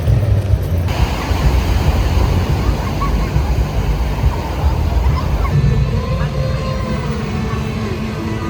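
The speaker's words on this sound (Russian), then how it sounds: "Море! Так хорошо, так тепло." Waves wash onto a warm seashore in Nha Trang, Vietnam, a loud, continuous rush and roar of surf with strong wind-like low rumble and no clear breaks between breakers.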